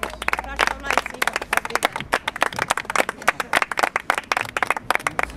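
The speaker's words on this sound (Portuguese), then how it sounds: "Para as palmas lá em cima." Audience applause at a crochet charity event about violence against women, a smaller group clapping in distinct, uneven sharp claps close by, rather than a dense wash.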